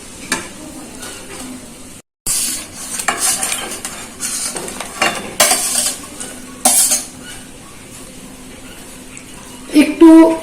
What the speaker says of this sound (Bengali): এই সময় আমি দিয়ে দিচ্ছি মিক্সারের বাটি ধোয়া জলটা। গ্রেভি ফুটে উঠেছে।